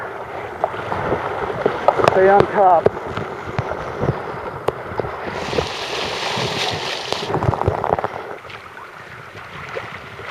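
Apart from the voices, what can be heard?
waves hitting a rowing boat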